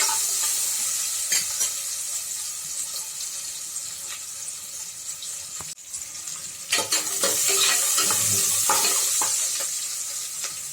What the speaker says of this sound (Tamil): நல்லா வதங்கணும் சார் கொஞ்சம் சிவக்கட்டும் அப்போ தான் நல்லாயிருக்கும்